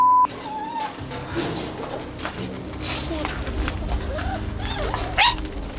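Abandoned stray dogs along a village street bark and yelp in a busy overlapping clamor, with birds chirping nearby and a voice briefly heard.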